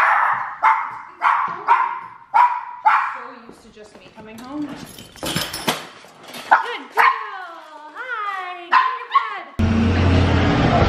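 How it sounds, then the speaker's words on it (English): A puppy yips and barks in short, high bursts, nearby and loud, mixed with whimpering whines, before the sound cuts to noisy background near the end. "Now we get to see the puppy."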